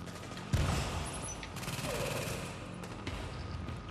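A deployed turret fires rapid bursts in Tom Clancy's The Division, a dense, steady clatter of automatic gunfire running throughout, with a few sharper cracks and impacts layered over it.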